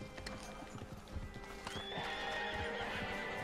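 Horse hooves clip-clop steadily while a horse neighs in the Red Dead Online video game world, set against a busy, moderately quiet outdoor ambience with no speech.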